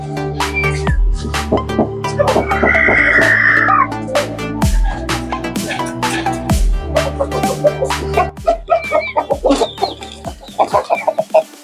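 An aggressive Aseel rooster clucks loudly and close by, in rapid, irregular bursts of sharp calls with short pauses between them, and no voices are heard.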